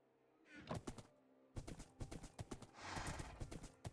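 Horse hooves clip-clop in a building video game, a quick run of close, crisp hoofbeats after a brief pause, with a faint whinny-like tone at the start.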